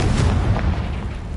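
A single deep, rumbling blast from a Confringo explosion spell in a Harry Potter video game, loud and close, decaying through a short, noisy tail.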